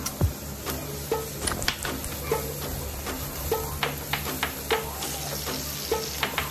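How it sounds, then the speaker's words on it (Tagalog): Onions sizzling in a hot pan for a Filipino fish lip soup, a steady crackle broken by frequent stirring scrapes and knocks of a utensil, close and fairly loud with no talk. "Lagay ko na yung sibuyas."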